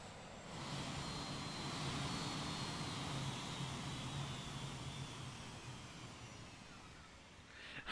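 Aircraft engines roar in the strategy video game Grey Goo, a steady loud jet-like drone with a faint high whine, continuous throughout and cutting off abruptly at the end.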